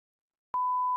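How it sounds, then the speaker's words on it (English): Electronic beep from a programmed button: silence, then a single sustained pure tone that starts abruptly halfway through and holds steadily, clean and alone. "What's that beep?"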